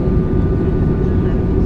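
A fixed-wing airliner touching down at Phnom Penh airport in Cambodia gives a loud, steady low engine roar close by inside the cabin, droning evenly throughout.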